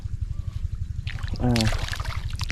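Water poured from a container onto the soil surface of a potted plant, a short splashing trickle swelling midway, with a person talking over it.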